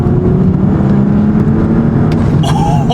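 An Audi S4 B9 on a stage 1 E85 tune, its engine idling loudly up close before a short rev rises and falls near the end, with no talking.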